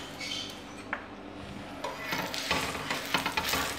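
Aloo paratha frying in ghee on a pan over a low flame, giving a steady soft sizzle with scattered scraping and clinking as it is handled, with no voices.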